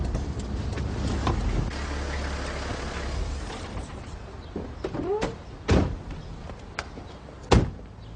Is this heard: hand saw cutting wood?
no